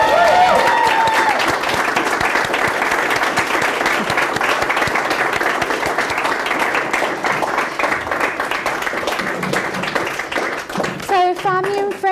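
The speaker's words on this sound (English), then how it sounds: "If we can give a big round of applause," Wedding guests burst into applause for a newly married couple right after the vows, a thick, sustained patter of many hands close by, with brief voices and a few sharper claps near the end.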